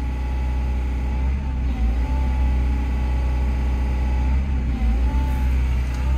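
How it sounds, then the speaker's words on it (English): An excavator's diesel engine drones steadily under load as the dipper arm is pulled in and held over, a loud, constant low rumble with slight rises in pitch, no talk. "I'm just gonna pull the dipper arm in, hold it over a leaf, and just put a bit of load on the engine"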